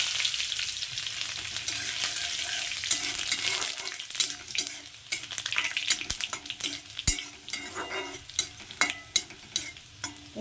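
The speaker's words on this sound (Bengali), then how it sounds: "রসুনটা একটু ভাজা করে নেব সামান্য একটু কালারটা চেঞ্জ হবে আর সুন্দর একটা গন্ধ বেরোবে" Crushed garlic and mustard seeds fry in oil in a pan with a steady sizzle, growing busier with sharp pops and crackles of spattering seeds toward the end, heard up close.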